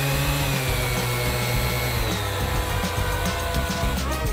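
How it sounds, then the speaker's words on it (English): An electric sander drones steadily nearby, its motor whine holding constant with a rough grinding buzz layered over it. "Let's go into the sander now."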